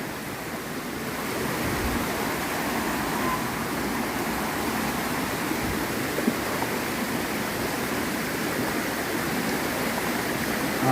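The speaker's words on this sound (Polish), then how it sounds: "Gorący tutaj strumyk." Hot thermal stream steaming as it flows over rocks, a steady broadband rushing wash that holds evenly throughout, close and continuous with no voices.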